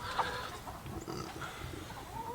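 Hens murmur and cluck softly inside a coop, faint scattered calls over a low continuous background hum.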